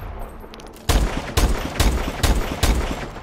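An SVO sniper rifle in Call of Duty: Advanced Warfare fires five loud, evenly spaced booming shots, each with a short tail, with no voices.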